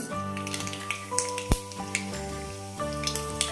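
Mustard seeds crackle in hot oil as a scatter of sharp pops and ticks over music, with one loud crack near the middle.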